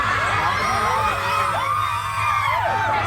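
A large crowd shouts, whoops and cheers continuously at a university centenary celebration on an open ground, with overlapping high-pitched yells and screams sustained and loud throughout.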